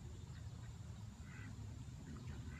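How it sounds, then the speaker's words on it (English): Ducks quack now and then against a steady low rumble of outdoor background noise, the calls soft and scattered. "I'm just looking at a pond of ducks."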